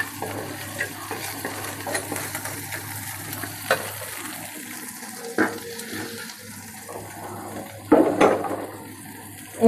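Dried loitta fish sizzles in a pan while being stirred, scraping and clattering sounds over a steady frying hiss, with a few sharper clanks near the end.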